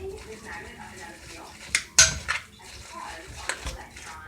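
Keto pizza dough ingredients being mixed in a bowl, with clinking utensil scrapes and a couple of sharp clanks against the dish, while a voice speaks faintly in between.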